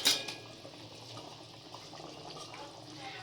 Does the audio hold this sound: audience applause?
no